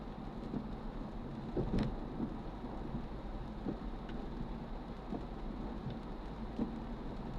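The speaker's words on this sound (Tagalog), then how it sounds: "Ulan pa." Rain drumming on a moving car, heard from inside the cabin, with low road rumble and a few soft thuds; the rain stays steady throughout and no one speaks.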